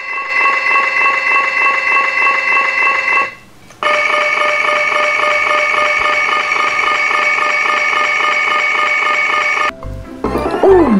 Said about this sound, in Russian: это будильник